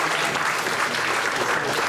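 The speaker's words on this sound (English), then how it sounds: "Round of applause for the young lady" Steady, full applause from a comedy show audience in London, dense and even across a short stretch with no pauses.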